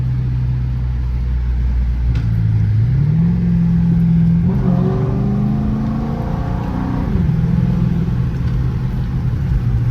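A straight-piped Chrysler 300C with a 5.7 engine pulls hard on a night drive, its loud, deep exhaust rumble climbing through the revs, dropping at a shift, and surging again.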